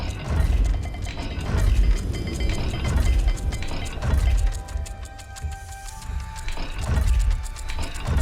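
In Hogwarts Legacy, a dial puzzle mechanism turns with steady ratcheting clicks and grinding gear sounds. The sound is dense, loud and continuous, swelling and easing a few times.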